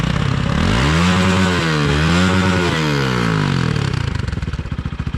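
A motorcycle engine at an illegal biker meet fires up and revs hard, rising and falling several times as it bounces off the rev limiter, then idles down roughly. The engine is close and loud.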